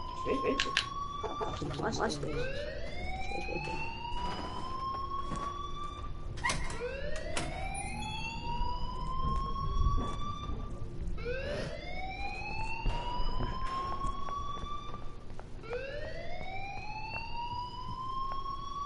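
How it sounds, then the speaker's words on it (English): Rising and falling siren-like alarm wails repeatedly in the video game Life is Strange, loud and sustained, sweeping in cycles of about four seconds, with a voice talking over it. "please turn off that alarm since that's your job"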